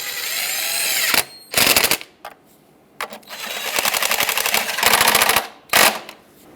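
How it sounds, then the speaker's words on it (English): A power tool tightens bolts on a 2010-2017 Chevrolet Equinox engine during spark plug replacement, several loud close ratcheting bursts separated by short pauses. "Snug them both up."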